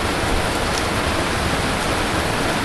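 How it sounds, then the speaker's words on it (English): Steady rain hisses as an even broadband wash over nearly three seconds, dense and close, with no breaks and no voices. "You hear that? Above the rain noise?"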